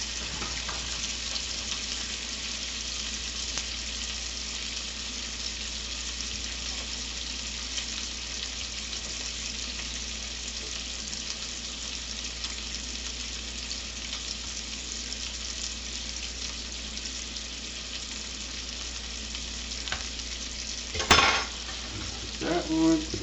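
Hot dog slices fry in a pan with a steady, close sizzle that continues evenly, followed near the end by a brief clatter of utensils against the pan.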